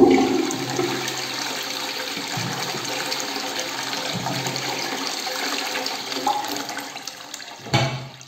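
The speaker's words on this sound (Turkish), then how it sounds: "sifonu çekiyoruz" A toilet flushes with a strong rushing gush of water that settles into a steady refilling hiss and trickle inside the bowl, close and alone, ending with a brief mechanical clunk.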